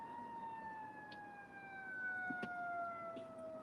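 Emergency vehicle sirens from police cars, ambulances and fire trucks wail at a distance, a steady falling tone drifting under faint street noise, with no talk.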